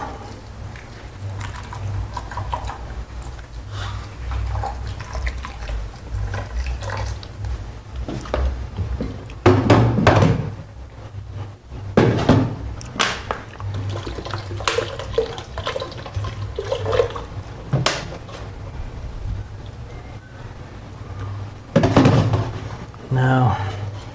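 Water pouring over a busted coconut to make coconut oil the Belizean way, a running, splashing stream with intermittent louder gushes as a person talks.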